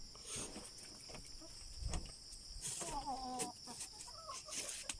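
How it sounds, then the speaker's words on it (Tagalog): A chicken clucks and calls in a short burst outdoors, over a bed of insect chirping and faint rustling. "Ito pala yung manok ko guys."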